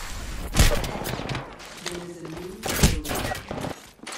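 Gunfire in a fast-paced shooter game: two sharp, loud broadband shots about two seconds apart with a clattering tail, plus game ambience between them.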